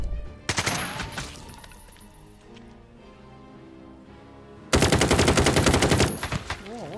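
Two long bursts of rapid automatic gunfire in a video game, the first about a second and a half, the second louder and over a second, separated by a quieter stretch of ambient game sound.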